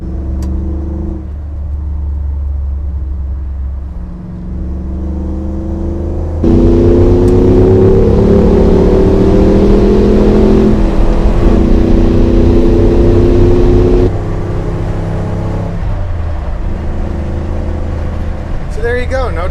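A restored and modified Ford Bronco cruises at highway speed around 2,300 RPM, its steady engine drone and road rumble swelling louder midway and then easing back, with no speech.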